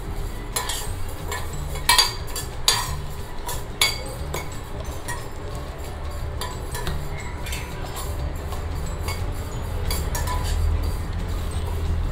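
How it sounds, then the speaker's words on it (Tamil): Ground urad dal batter for vada scraped and transferred into a vessel in a home kitchen, with repeated clinks and scrapes of a metal spoon against the pot at close range and steady low background hum. "ஸோ அதையும் நான் வந்து ஒரு பாத்திரத்தில் மாற்றிக்கிறேன்"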